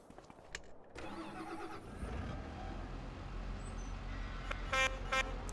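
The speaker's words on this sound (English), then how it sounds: "That's the horn, that's why I like this tractor." A tractor's horn in a farming video game sounds near the end, with short bright honking blasts following a steady engine rumble and some earlier game sounds.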